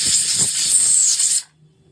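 Loud, close hiss of steam escaping a pressure cooker on a home kitchen stove, steady for over a second before cutting off abruptly into near silence.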